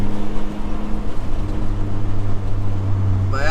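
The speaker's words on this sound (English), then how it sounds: "I don't know how well you guys could also hear the car too." Honda Civic driving, heard from inside the cabin: a steady low engine and road drone with a faint hum, mixed with wind rumble on the microphone, continuous and fairly loud.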